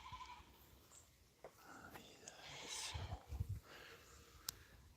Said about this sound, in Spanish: Estoy esperando que pasen todas las cabras para adelante.